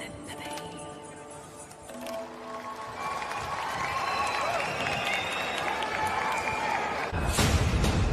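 Applause from a concert audience after a song with a band, a broad rising wash of clapping and crowd noise that swells and grows louder toward the end, with some music fading underneath at the start.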